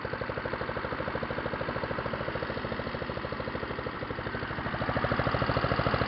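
A Honda Izy lawnmower engine with a fairly new motor idles steadily at close range, its rapid regular firing pulses holding an even rhythm and growing slightly louder near the end, with no talking.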